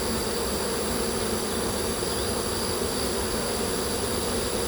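A honeybee colony buzzes loudly and continuously at close range while an established hive is being requeened, a dense, even drone with no pauses.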